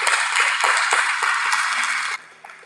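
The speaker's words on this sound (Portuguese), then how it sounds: "E pode aplaudir o Senhor Jesus" A church congregation applauds in praise. A thick, even wash of clapping fills the room, then cuts off sharply, leaving a brief quiet tail.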